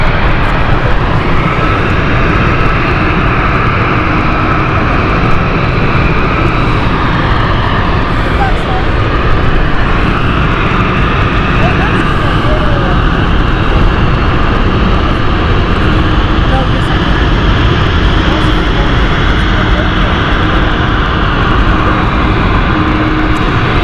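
A 20-year-old Dornier 328, a small airliner at London City Airport, gives a loud, continuous engine drone that stays close and even, with talking running over it.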